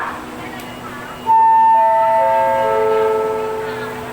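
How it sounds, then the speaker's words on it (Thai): A special express train pulls into platform 2 at Ratchaburi station in Thailand, with a loud, sustained horn blast that drops in pitch as it passes over the low rumble of the rolling train. "ขบวนรถที่จะเทียบในชานชาลาที่ 2 เป็นขบวนรถด่วนพิเศษ"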